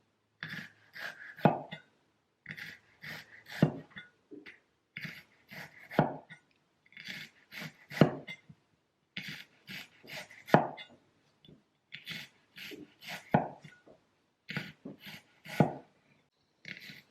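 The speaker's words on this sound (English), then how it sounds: "I can easily slice the tomato in very thin pieces" A sharp Almazan chef's knife slices a tomato into very thin pieces, producing repeated close, crisp cutting taps in quick bursts with brief pauses between groups, clear and alone.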